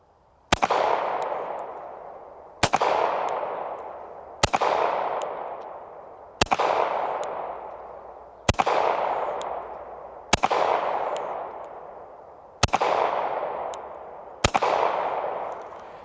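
Eight sharp pistol shots from a Bodyguard 2.0 fired at a 25-yard target, spaced roughly two seconds apart, each a loud crack followed by a long echoing decay.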